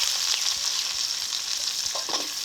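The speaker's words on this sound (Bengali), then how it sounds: "পেঁয়াজটাকে এখন ভালো করে ভেজে নেব" Chopped onions fry in oil for a prawn malai curry, a continuous close bright sizzle with small crackles and a slight swell near the end. No one talks.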